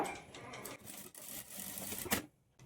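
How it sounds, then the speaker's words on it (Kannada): A sewing machine stitches a dart on a Madubala-style blouse, a quiet uneven run of rapid mechanical ticking in short bursts, ending in a brief clack. "ಈಗ ಈ ಡಾಟ್ನೂ ಸಹ ಸ್ಟಿಚ್ ಮಾಡಿಕೊಳ್ಬೇಕು"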